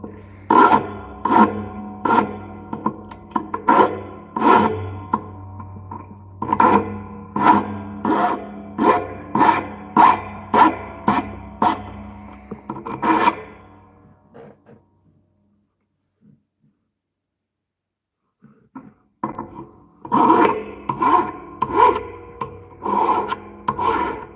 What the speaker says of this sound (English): I should probably take a file to the rougher spots.